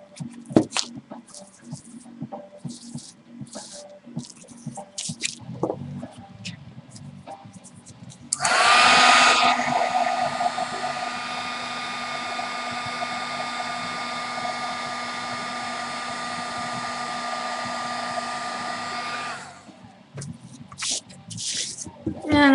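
A hair dryer drying paint on a butterfly canvas switches on with a loud blast, then keeps up a steady whirring hum for about ten seconds before cutting off, with quiet handling noises before and after.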